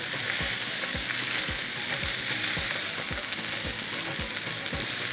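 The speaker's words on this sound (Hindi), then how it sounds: "हल्का सा हम इसे फ्राई करेंगे, फ्राई करके हम साइड में रख देंगे" Mixed vegetables for kadhi fry in a pan with a dense, continuous sizzle, overlaid by regular rhythmic scraping strokes roughly twice a second as they are stirred.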